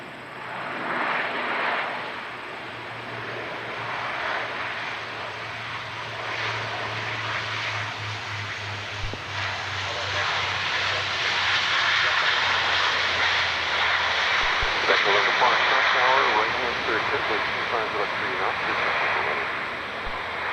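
A Cessna 172 landing on runway 25 at Ottawa airport gives a steady propeller-engine drone that swells slightly toward the middle, heard at moderate distance with a voice talking over it.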